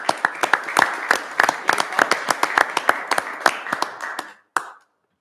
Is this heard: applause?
yes